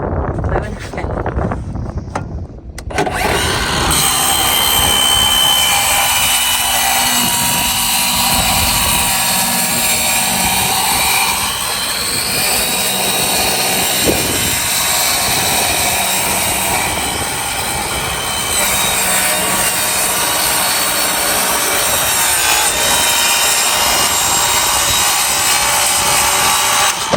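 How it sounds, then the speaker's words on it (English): A circular skill saw rigged as a makeshift table saw cuts through plywood against a fence, giving a loud, continuous high-pitched whine that runs steadily for most of the stretch after a brief quieter start. "I'm essentially making a table saw with a skill saw."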